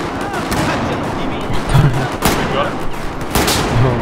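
Gunfire in the video game Battlefield 4, loud bursts of shots and booming impacts layered over a constant dense battle din, with a few sharp louder cracks standing out.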